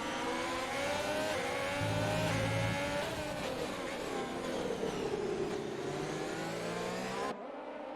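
Onboard engine of an Alfa Romeo F1 race car in a video game, a steady high-pitched wail that rises and dips with gear changes and throttle, loud and continuous before cutting off abruptly near the end.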